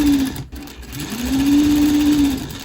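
A sewing machine stitches along a hole in Indian sari fabric close to the presser foot. It runs as a steady, near hum for most of the clip, broken by a brief pause early on.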